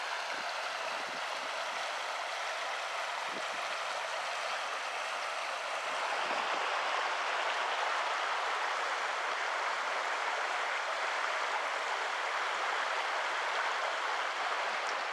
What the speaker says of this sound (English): Well, the creek's all back to normal after our little blast of rain.